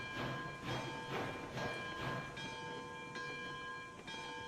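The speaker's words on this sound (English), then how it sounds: "You can turn off the bell here for a second." A locomotive bell rings steadily in the Railroads Online train game, with evenly spaced clangs over a constant train hum and no voices.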